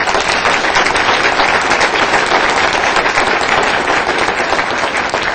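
A city council meeting audience applauds steadily and loudly for a parks and recreation award winner, a dense wash of many hands clapping for several seconds without pause.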